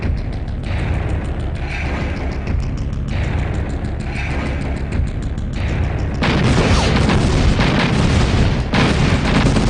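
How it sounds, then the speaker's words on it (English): Tank and artillery fire from the Red Alert real-time strategy game: dense, continuous booming bursts and explosions filling the whole stretch, loud and steady, growing harsher and denser in the last few seconds, with no talk. "I hear tank fire."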